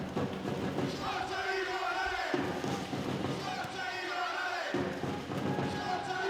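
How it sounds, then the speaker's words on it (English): A packed volleyball arena crowd roars throughout a women's Champions League semifinal between Igor Gorgonzola Novara and VakifBank Istanbul. The noise is steady and dense, with low rumbling swells and a commentator's voice mixed in. "listen to the crowd"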